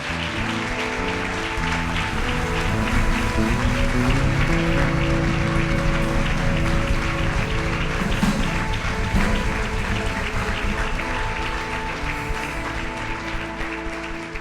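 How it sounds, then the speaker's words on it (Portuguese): A church congregation claps together at an evening worship service, a steady wash of applause over sustained music throughout. "Vamos aplaudir o Senhor nessa noite."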